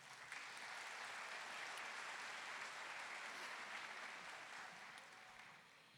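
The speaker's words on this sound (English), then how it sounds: "Let's give them a round of applause" Sustained applause from an audience at a high school graduation ceremony for the school staff, dense and steady for several seconds before tapering slightly at the end.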